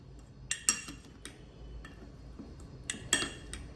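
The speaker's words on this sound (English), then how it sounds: "Give it a nice mix." A utensil stirs fresh blueberries into quinoa flour in a bowl, giving a few faint, sparse clinks and light scrapes close by, with no talking.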